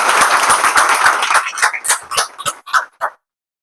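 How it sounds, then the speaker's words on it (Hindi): A crowd at a computer institute applauds to welcome a guest on Republic Day. The clapping is dense at first, then thins into scattered, separate claps and stops abruptly, leaving silence. "तालियों से स्वागत होनी चाहिए सर का"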